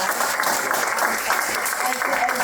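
A room of attendees at a Fed board meeting breaks into a round of applause, dense, even clapping at close range that holds steady for a couple of seconds.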